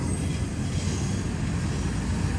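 Freight train rolling past up close, a continuous loud low rumble of wheels on rail with steady grinding, no voices.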